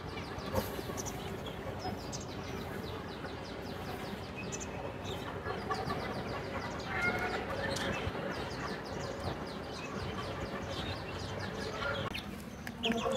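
Chickens and chicks on a rooftop, clucking and cheeping continuously at close range while people talk faintly in the background.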